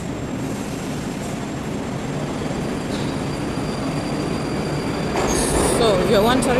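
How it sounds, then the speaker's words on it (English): Moscow metro train in motion, a loud steady rumble of wheels on rails that builds toward the end with high metallic squealing. "Проезд в метро."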